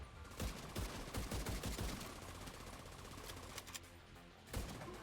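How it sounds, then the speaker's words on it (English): Rapid bursts of automatic gunfire from The Division 2, a loud cluster of close shots early on, scattered further shots after and another sharp burst near the end, with no talk over it. "Oh look, shooting his armor off"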